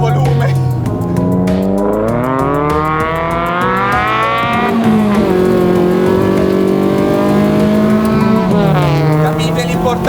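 A 650 kg Mini with a swapped Honda VTEC engine accelerates hard. The loud, close engine note climbs steeply in pitch through revs, dipping at two gear changes before rising again.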